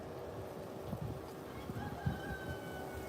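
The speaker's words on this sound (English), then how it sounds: "Do you hear the rooster?" A rooster crows twice in the distance on a street where horses and goats roam, faint and brief against a steady background hum.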